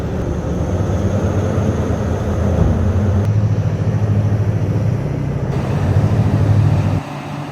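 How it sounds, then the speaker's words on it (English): Liebherr 994 Litronic mining shovel in an open pit roaring at full throttle, a loud, steady low-pitched engine drone with continuous mechanical rumble that drops slightly near the end. "the Liebherr 994 Litronic shovel at absolute full throttle"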